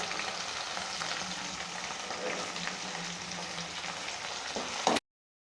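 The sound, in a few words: tomatoes sautéing in a pan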